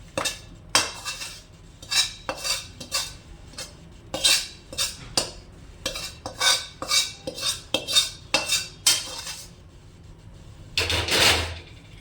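Metal utensil scraping and clanking against a pan while sukhdi, a ghee-rich Gujarati sweet, is emptied out, in a steady run of sharp close scrapes and taps ending with a longer rasping scrape.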